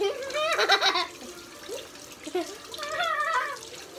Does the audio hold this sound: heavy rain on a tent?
no